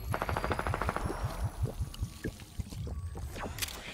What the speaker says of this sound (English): Let's drink my big shield.